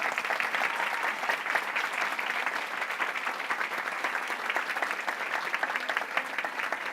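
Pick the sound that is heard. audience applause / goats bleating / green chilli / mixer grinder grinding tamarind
audience applause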